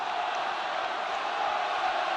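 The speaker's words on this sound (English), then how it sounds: "Munster crowd roaring on their team to see this one out" A Munster crowd at a rugby match against Connacht roars as a steady, distant wall of sound that holds unbroken throughout.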